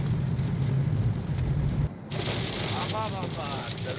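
Heavy hail and rain pound a vehicle on the Mumbai-Pune expressway as a loud, close, continuous roar, which drops away abruptly partway through before a softer wash of rain continues.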